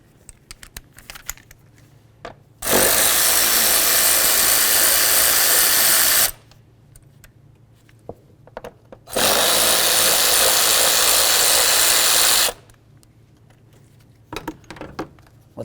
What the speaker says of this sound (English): We're going to go ahead and remove these two bolts.